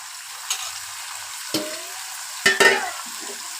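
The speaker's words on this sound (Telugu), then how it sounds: "ఇప్పుడు క్లీన్ చేసుకున్న చికెన్ వేయాలి" Cleaned chicken pieces dropping into hot oil with fried onions make a constant crackling sizzle, broken by a few louder hissing bursts and scraping stirs up close; no one speaks.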